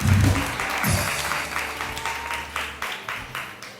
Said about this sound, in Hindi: बहुत सारी तालियां एक बार फिर रितिका धंजा के लिए।